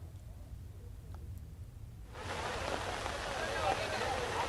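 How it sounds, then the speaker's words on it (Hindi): Heavy monsoon rain pours down in Udaipur, Rajasthan, a steady broadband hiss that swells sharply louder midway and stays dense and close, with faint low background rumble. "अभी भी मूसलाधार बारिश जो है वो लगातार चल रही है"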